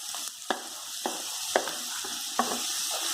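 Ground onion paste sautéing in a pan for chicken fry, a steady broadband sizzle with a few sharp spoon-stirring clinks spaced through it, close and moderately loud, no voices.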